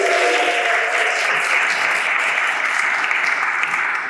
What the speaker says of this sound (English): as you can tell by all the claps